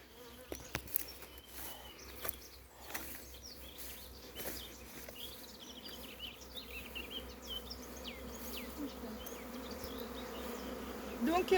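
An agitated honeybee swarm buzzes around a hive after being tipped into it, a faint, continuous insect drone with individual bees passing close and occasional soft knocks.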